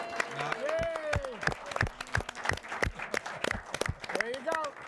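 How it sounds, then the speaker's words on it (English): Scattered applause and claps from an audience welcoming Mom as she takes a front-row seat, sharp irregular claps under cheerful talk and voices nearby. "She got more applause than we did."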